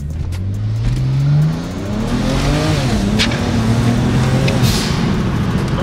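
A BMW with an aftermarket blow-off valve accelerates hard, the engine note climbing through rising gears with a loud surge and a whooshing release, the tires briefly scrabbling for traction.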